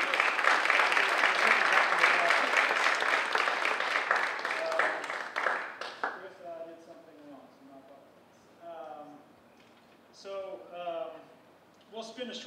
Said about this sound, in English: let's give them a round of applause for all of our folks